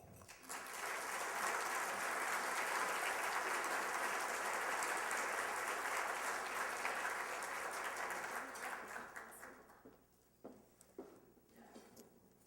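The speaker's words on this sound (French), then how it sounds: "Applaudissons maintenant Mme Sylvie Vachon" An audience at a Montreal business gathering applauds Sylvie Vachon, CEO of the Port of Montreal, in a full, sustained round of clapping that fades into scattered claps near the end.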